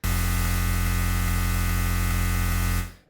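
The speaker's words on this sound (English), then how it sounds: "we're going to use the third partial here as a noise generator to add like punch to the start of the kick" Steady, loud broadband noise from the noise-generator partial of a Roland Zenology synth, used in a hardstyle kick, holds a constant hiss with a low hum beneath it, then cuts off quickly near the end.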